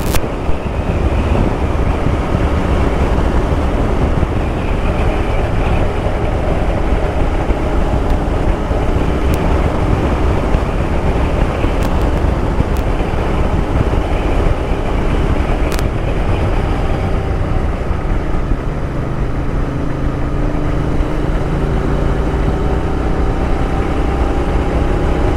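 Royal Enfield Interceptor motorcycle fitted with Scorpion exhaust cans, ridden along a quiet tree-lined country road in Argyll and Bute, Scotland; a steady, continuous engine and exhaust drone runs throughout, heavily mixed with wind rush across the microphone.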